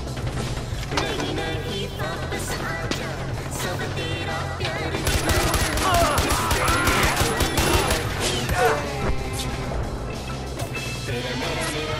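Rapid automatic gunfire from a weapon in the video game Far Cry 4 rattles in dense bursts over vehicle engine noise and game sound, loud and continuous through most of the stretch.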